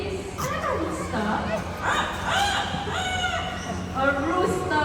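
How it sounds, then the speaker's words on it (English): A rooster crows several times in a park, loud and fairly near, its drawn-out calls repeating over a steady murmur of a crowd. "A rooster here in the park."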